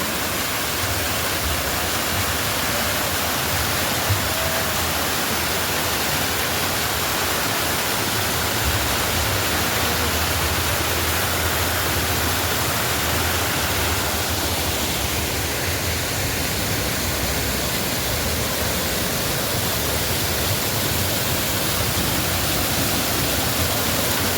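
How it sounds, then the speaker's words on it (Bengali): Steady, dense rushing water fills the whole stretch, a constant broadband roar of a waterfall close by in Darjeeling, unchanging throughout. "এই হলো ঝর্ণা"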